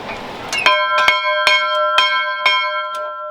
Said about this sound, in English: Oh, and there's a bell.